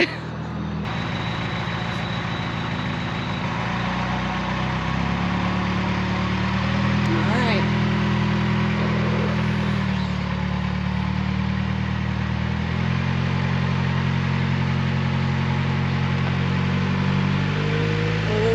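A car engine drones steadily as it pushes a 1964 Ford Fairlane Ranch Wagon up an incline, with a rising whine as the wheels spin out on one side; voices talk over the sustained, fairly close engine noise.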